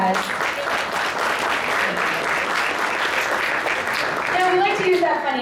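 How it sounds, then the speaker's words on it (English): Applause from an audience for volunteers at a financial literacy talk, a continuous wash of clapping with a voice speaking faintly under it near the end. "now give them a round of applause."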